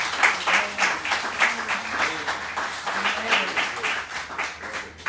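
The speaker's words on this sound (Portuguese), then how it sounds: "aplauda o Senhor com o seu melhor" Church congregation applauding at a Nova Vida service, rhythmic clapping pulsing in quick beats alongside voices and low music, fairly close and sustained.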